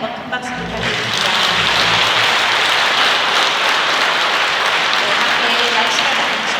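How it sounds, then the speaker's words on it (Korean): An audience at a Catholic Advent lecture breaks into loud, dense clapping after a brief quieter moment, the applause swelling quickly and holding steady to the end. "다시 한번 큰 박수 부탁드립니다."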